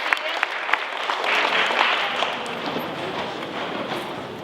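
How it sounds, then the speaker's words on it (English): A school audience gives a student a round of applause, a dense, sustained wash of many hands clapping together at steady loudness across the whole stretch. "Let's give Malia a hand clap"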